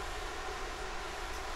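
Tobu 50050 series electric train car running between Koshigaya and Nishiarai, a steady, continuous interior rumble and broadband rolling noise with no voices.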